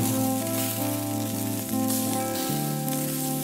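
Ghee sizzles in a pan of black chana curry, a steady crackling hiss like rain on a surface, close and continuous over a background of music, with no talk.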